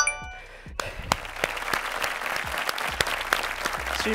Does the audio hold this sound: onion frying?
no